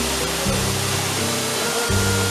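A waterfall pours down in a forested spot near Daringbari, giving a loud, steady broadband rush of falling water that continues without a break.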